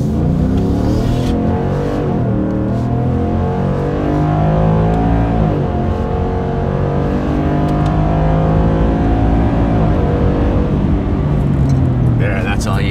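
A Ford F-150 fitted with an MBRP S5215 Street Series sport exhaust is driven at wide open throttle, a loud, continuous exhaust roar rising and falling in pitch through gears, close and dominant throughout.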